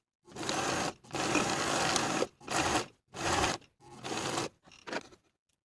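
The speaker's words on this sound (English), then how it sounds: "I'm going to zigzag stitch along my finishing stitches all the way around, leaving a 2-inch gap to insert the elastic" A sewing machine zigzag stitching the sleeve hem of a knit jacket runs in several close bursts of whirring, separated by short pauses, with each run growing shorter toward the end.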